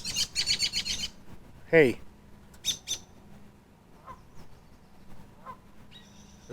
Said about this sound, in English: it's just going to sit here with me and make noise until it feels safe to take off again